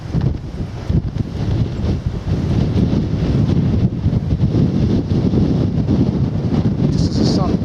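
Wind gusting across an open beach on the Norfolk coast near Snettisham, a steady loud rush with buffeting on the microphone throughout.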